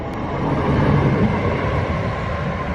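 Low, steady rumble of a train pulling away from Kemsley station on the Sittingbourne to Sheerness-on-Sea branch line, moderately loud and without pauses.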